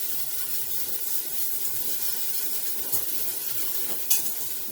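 A shallot sizzles in a pot, a soft steady hiss of frying with a few faint clinks and pops, heard up close and alone.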